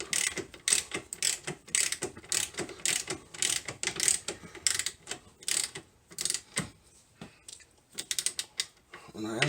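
Suspension bolts on a C4 Corvette are tightened with a ratchet, giving close, rapid ratcheting clicks in repeated bursts that slow toward the end, with no talk.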